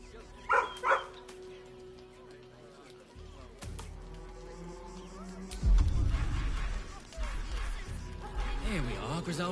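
A dog in Baldur's Gate 3 gives a couple of short, sharp barks and yips near the start, followed by game ambience, rumbling effects and a voice talking.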